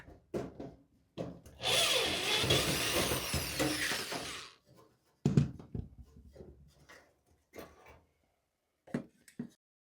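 A power drill backing screws out of the heater shield on an Electrolux dryer, one long whirring burst followed by shorter revs, clicks and clanks of metal parts, close and loud.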